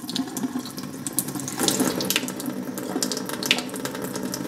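A thin stream of water runs through a clogged fuel filter from a fuel pump setup, making a close, continuous trickling and splashing for a few seconds, with no voices.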